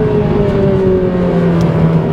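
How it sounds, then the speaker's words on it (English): Honda Civic Type R engine with high mileage revving hard, a steady loud tone climbing as it reaches VTEC, sustained for about two seconds with no talk. "I just love the change of tone when you do hit VTEC"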